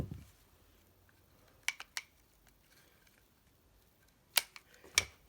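Sharp scissor snips cut tent pole shock cord, a couple of quick, faint clicks around the middle and another louder pair near the end, in an otherwise quiet room.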